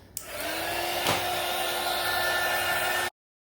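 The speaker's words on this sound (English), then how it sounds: "I'm going to go ahead and blow dry it." Hair dryer blowing on acrylic paint to speed drying, switched on with a click and running as a loud, close, steady whooshing hum with a faint whine for about three seconds before cutting off abruptly.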